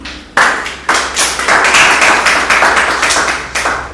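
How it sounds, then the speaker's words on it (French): An audience applauds, a burst of dense hand clapping that starts abruptly and carries on steadily, loud and close, with no voices over it. "Bravo, applaudissez-vous."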